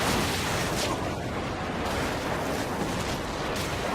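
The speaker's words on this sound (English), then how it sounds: "Friendly airstrike on the way." Call of Duty 4 gameplay on the Pipeline map in Domination mode, with a friendly airstrike landing as a dense, continuous wash of muffled blasts and rumbling explosions, fairly quiet and sustained throughout.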